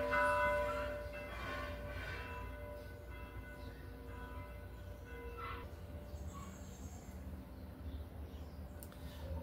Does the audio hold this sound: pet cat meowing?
no